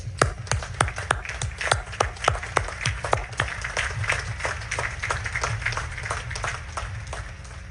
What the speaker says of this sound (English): let's give them a third round of applause